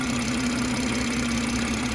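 A BMW M140i petrol engine idles with its hood open, a steady, even hum with a constant low drone and light ticking, close and uninterrupted.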